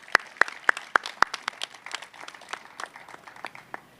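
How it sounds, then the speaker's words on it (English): An audience at an outdoor bridge replacement project announcement claps, starting with a few sharp loud claps and thinning into scattered, softer applause that fades out. "Would you give them a round of applause in absentia?"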